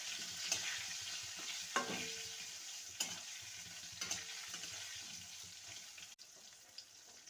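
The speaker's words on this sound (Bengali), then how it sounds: "বেগুনটাকেও হাই ফ্লেমে ভেজে নেব।" Eggplant fries on a high flame with a soft, steady sizzle and a few light clicks and scrapes of a utensil, fairly quiet and with no one talking.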